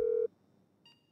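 A phone call is placed in the video game GTA V, opening with a loud steady tone lasting about a quarter second. After a pause, a short, fainter electronic beep follows.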